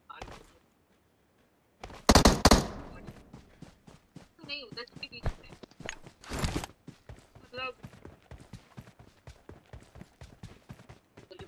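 Rapid gunfire bursts in the mobile shooter BGMI, loud cracks in clusters against a steady run of footstep-like clicks, with excited voices talking throughout.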